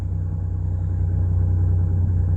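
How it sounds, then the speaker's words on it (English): A 2015 Nissan Pathfinder idles steadily with a deep, smooth exhaust rumble, constant and close, with no other sounds. "shot of the exhaust with the motor running."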